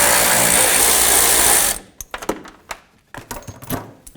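A ratchet loosening fog light mounting nuts on a 2007-2017 Ford Expedition bumper: a loud burst of rapid ratcheting clicks, then scattered sharp metallic clinks and knocks, close up with no speech.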